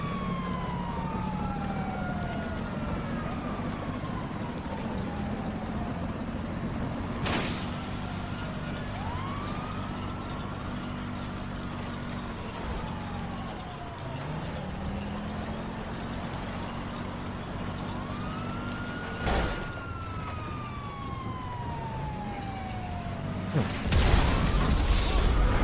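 Police car siren in the video game GTA Online, a rising and falling wail that sweeps repeatedly over a low engine rumble, with a few sharp bangs cutting in.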